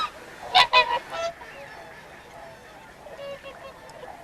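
Whooper swans call with a few loud, close honking notes in quick succession near a lagoon, then fainter calls trail off against a quiet outdoor background.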